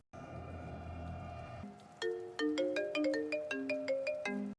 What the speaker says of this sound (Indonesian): saat Juni mendapatkan telepon dari Vena dan akan mengangkatnya